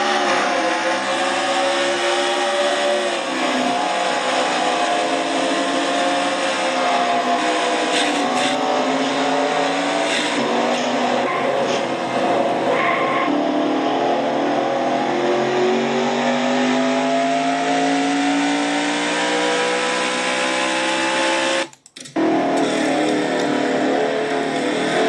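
Onboard a number 18 race truck in the Traxxas Truck Series Lizard Lick Towing 200, the engine roars loud and continuous as it climbs and shifts through gears on track, with a brief drop near the end and no talk.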